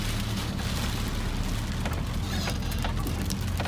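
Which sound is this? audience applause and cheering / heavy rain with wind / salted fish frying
heavy rain with wind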